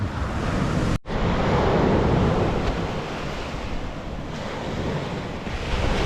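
Steady roar of sea surf washing onto a beach, with heavy wind buffeting the microphone and a brief dropout near the start.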